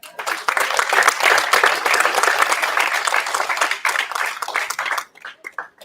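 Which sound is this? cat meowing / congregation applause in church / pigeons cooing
congregation applause in church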